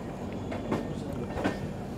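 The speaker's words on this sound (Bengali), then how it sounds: "আমাদের ট্রেন এই মুহূর্তে এসে পৌঁছালো গয়া জাংশনে" Jammu Tawi Express pulling into Gaya Junction at night, a steady low rumble of rolling rail cars with two soft clunks from the wheels, heard from inside the carriage.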